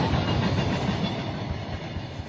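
Carajás train wagons rolling on rails with a steady, loud rumble and faint rhythmic clatter of wheels, continuous and close throughout.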